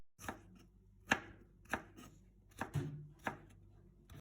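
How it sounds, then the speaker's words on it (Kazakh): A knife cuts pumpkin into small cubes on a board, about seven sharp, close chops at an uneven, unhurried pace with quiet gaps between them and no speech. "Асқабақты да осылай кішігірім етіп кубиктап турап аламыз."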